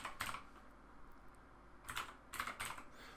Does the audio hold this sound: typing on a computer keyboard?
yes